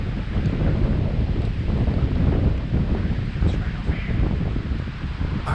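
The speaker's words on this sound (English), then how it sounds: "the good thing about this is the fact that it's super windy" Strong wind roars and buffets the microphone continuously, a dense low rumble with gusting swells and no pauses.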